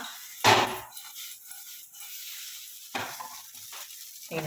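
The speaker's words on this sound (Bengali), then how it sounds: "অর্ধেকটা ভাজা হয়ে গেছে, আর এখানে অর্ধেকটা রয়েছে। একসাথে দিলে ভেঙে যাবে, তাই আলাদা করে ভাজছি।" Pieces of dhoka, fried lentil cake for dhokar dalna, sizzle steadily in a pan, with a sharp clink of a utensil near the start and a few softer scrapes later.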